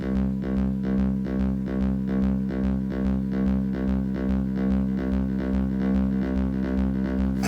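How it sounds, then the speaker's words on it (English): A rolling synth bass line from an Elektron Syntakt with delay pulses in a steady, even rhythm, moderately quiet and continuous with repeating echoed notes and no talking. "And now you've got a little bit of rolling bass line"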